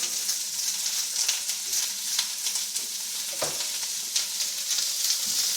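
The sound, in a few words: onions sizzling in olive oil being stirred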